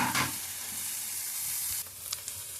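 Sliced onions fry in a pan for eggplant bharta, giving off a steady, loud, close sizzle. A few light stirring clicks and taps come near the end, and no one speaks.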